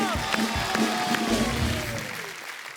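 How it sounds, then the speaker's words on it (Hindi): A studio audience applauds loudly for a Spider-Man guest on a comedy talk show, a dense wash of clapping and cheering that fades toward the end, with a host talking over it. "वाह एक बार जोरदार तालियां स्पाइडरमैन के लिए।"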